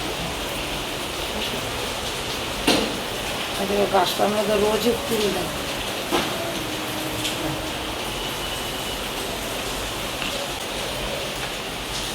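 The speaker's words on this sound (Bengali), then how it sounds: "আজকে সকাল সকালে কি বৃষ্টি দেখো" Steady morning rain falls outside as a constant broadband hiss through the whole stretch, with someone talking briefly over it partway through.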